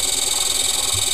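A modified electric motor combined with a generator runs steadily, giving a loud, even whirring hum with bright high tones and no change in pitch, heard alone without talk.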